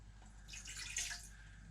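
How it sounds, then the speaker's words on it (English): Water poured into the pot of a Ninja Foodi 9-in-1 cooker, a brief soft splashing trickle heard close up and fairly quiet, with no voices. "And the water's going in as well"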